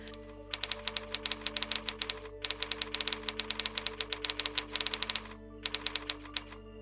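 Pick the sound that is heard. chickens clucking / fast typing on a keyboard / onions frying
fast typing on a keyboard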